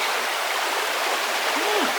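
A forest stream pours down with steady rushing water, a dense broadband roar flowing continuously, with a brief voice-like sound near the end.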